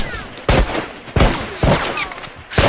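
Gunfire in The Last of Us Factions multiplayer: four loud, sharp shots spaced roughly half a second apart, each with a short echoing tail, and no talking in between.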